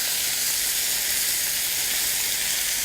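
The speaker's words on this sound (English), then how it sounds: "we're going to let it sear on this side for about 2 to 3 minutes" Steak sears in a hot pan with a loud, steady, close-up sizzle and hiss that holds evenly throughout.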